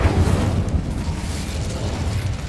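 A Confringo blasting spell explodes in Hogwarts Legacy as a loud, heavy boom followed by a rumbling, crackling low-frequency roar that lingers for a couple of seconds.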